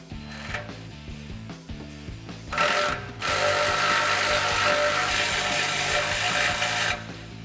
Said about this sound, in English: my electric ratchet